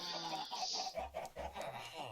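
Video-game chickens cluck in a few quick bursts over a steady background hum, close and moderately loud.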